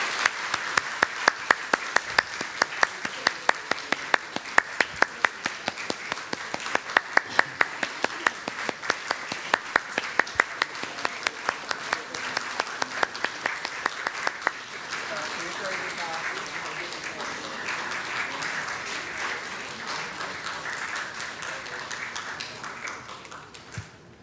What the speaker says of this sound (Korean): 박수 치시면 감사하겠습니다.